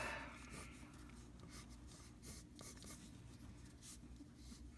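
A light pencil scratches across paper while drawing an anime character, soft continuous rasping strokes with brief pauses, close and quiet.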